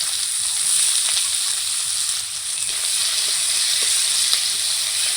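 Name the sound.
chopped onion frying in hot oil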